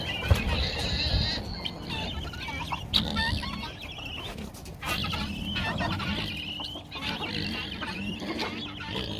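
Chickens cluck and murmur nearby in a busy backyard flock, with scattered calls and some background noise.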